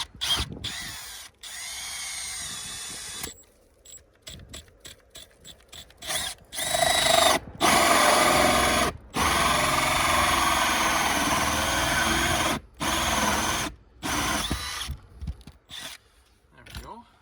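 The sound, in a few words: power drill drilling through roof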